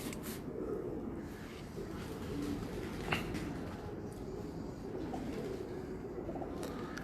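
Pigeons coo softly and repeatedly in a low, rolling murmur, close by, with faint background noise.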